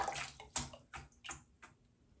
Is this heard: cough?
no